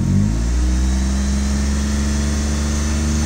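A close Mazda Miata engine runs loud and steady, with a rising rev at the start settling into a strong sustained drone.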